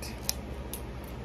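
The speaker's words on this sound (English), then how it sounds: "Scissors." Scissors cutting open a package, with a single sharp snip followed by a couple of fainter snips over a steady low hum, close and brief, no talking.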